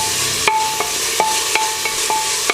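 Onions sautéing in oil in a pan while cooking home-made mandi, with a steady sizzle broken by several sharp metallic scrapes and clinks of a stirring spoon at an even rhythm.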